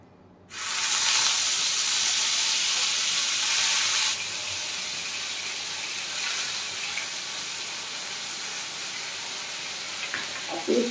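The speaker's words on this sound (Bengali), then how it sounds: "এবার তেলটা যে গরম আছে, ওর মধ্যে আমি একটু পেঁয়াজ বাটা দেব।" Onion paste hits hot oil with a sudden loud, bright sizzle that holds steady, eases slightly after a few seconds and keeps hissing close by, with a few clinks near the end.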